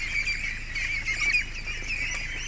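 Young Pekin ducklings in a duck farm shed keep up a dense, continuous high-pitched peeping chorus. The sound is close and fairly loud throughout, with no voices.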